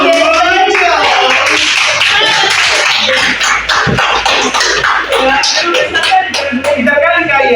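A classroom group claps hands in a dense, steady patter for several seconds. Voices can be heard faintly underneath.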